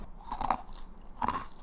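Hard, crunchy blue crystal candy from a GS25 convenience store, made of solid sugar around a jelly center, bitten close up: two sharp crunching bites with crackling chewing between them.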